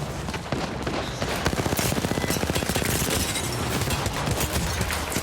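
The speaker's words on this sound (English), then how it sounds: "They're shooting us." Dense automatic gunfire in Apex Legends during a competitive tournament match, with rapid overlapping bursts of shots running continuously and loudly throughout, with no clear talking.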